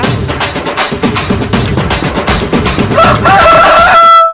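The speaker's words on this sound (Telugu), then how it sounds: "నాని కోడి పేరా" Rooster clucking and fowl noise fill the opening, and then a rooster gives one loud, close, drawn-out crow at the end.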